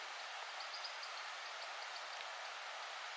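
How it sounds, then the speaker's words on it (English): Mountain stream flowing down from Dothalugala toward its waterfall, a steady, soft broadband rush of water heard alone and unchanging throughout. "You can hear the water stream that goes down from Dothalugala, creating the Dothalugala waterfall."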